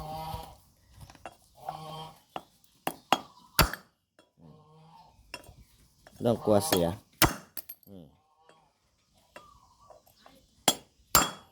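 Sharp metallic hammer blows drive a front wheel bearing into an Isuzu, arriving as scattered single strikes and short bursts between stretches of someone talking nearby.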